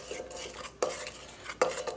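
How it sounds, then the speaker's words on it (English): Flour is stirred into pound cake batter in a bowl, with soft scraping swirls and two sharper knocks of the utensil against the bowl, close up and with no talking. "So I'm going to add in about 1/3 of my flour, and I'm just going to stir it in."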